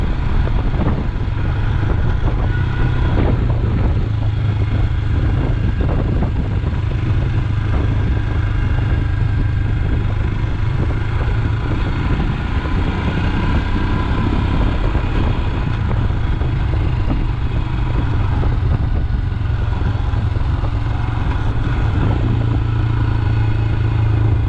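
Royal Enfield Himalayan motorcycle on the move, its steady engine drone and road rumble continuous and loud throughout, with wind buffeting from a helmet-mounted camera and no talk.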